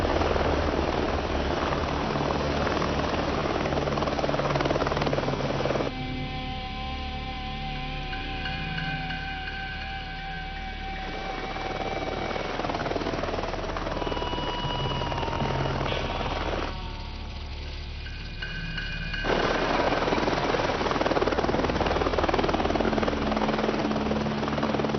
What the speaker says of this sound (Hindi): ये बड़े लोग जेल में स्टाइल से हेलीकॉप्टर में आते हैं।